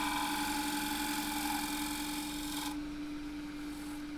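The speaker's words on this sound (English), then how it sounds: "I'm going to tilt it right up on its side and shear scrape around the corner." Steel bowl scraper shear-scraping around the corner of a box-elder wood bowl on a spinning lathe, a steady close hum with tonal whine and rubbing hiss that drops away near the end.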